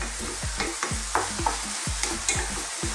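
Onions and meat sauce for lasagna sizzle in a pan under rhythmic stirring, the spoon scraping and knocking in quick repeated strokes over a constant close frying hiss.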